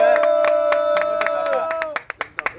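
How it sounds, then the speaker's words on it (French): An audience claps at a gathering, sharp hand claps repeating at an even pace while a sustained sung or hummed voice carries on over them, then thins out into a few louder, scattered claps near the end. "On applaudit."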